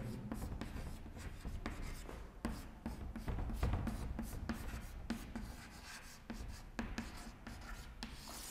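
Chalk or marker writing on a board during a history lecture, a run of short scratchy strokes in uneven bursts, close and fairly quiet, with no talking.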